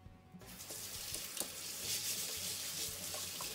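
Half a cup of sunflower seeds rinsed under a running tap, soft steady water splash and hiss that starts abruptly and continues at a faint, even level with small patters, no talking.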